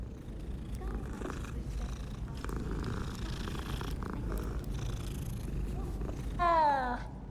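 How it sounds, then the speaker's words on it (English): A cat in the Hogwarts Legacy video game purrs steadily and softly while being petted, a low continuous rumble lasting throughout, with a short meow-like call near the end. "You can pet the cat."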